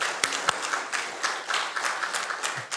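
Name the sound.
applause in church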